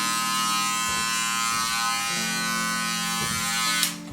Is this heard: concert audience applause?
no